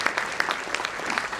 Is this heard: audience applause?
yes